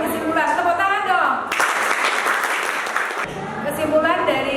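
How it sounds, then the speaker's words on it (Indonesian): High school students in a classroom give a short burst of applause in the middle, with a teacher's voice talking before and after it. "Anak-anak berikan apresiasi buat yang menyampaikan kesimpulan. Tepuk tangan dong."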